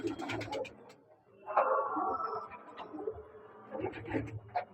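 A domestic flying pigeon gives soft, low, throaty coos close by, rising into a fuller rolling coo midway over faint background noise.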